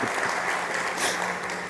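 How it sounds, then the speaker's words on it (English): A short stretch of steady audience clapping at a startup summit stage award announcement, full and even from a sizable crowd, with no voices over it. "Big applause to the marketing manager there"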